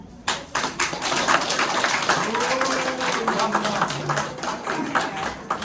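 Applause and clapping at a political endorsement event for candidate Kim Moon-soo, a sustained, dense crowd clap filling the room, with a voice speaking faintly underneath.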